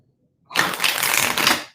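A deck of tarot cards is shuffled in one continuous crisp riffle lasting just over a second, close and clear after a brief silence, with no voices.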